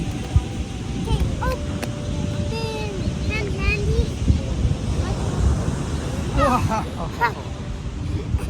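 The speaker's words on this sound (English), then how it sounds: "That's why you always gotta be facing the ocean so you can watch the waves." Ocean waves and wind rumble continuously at a beach during spring break, with gusts buffeting the microphone while people, including a child, talk over the surf.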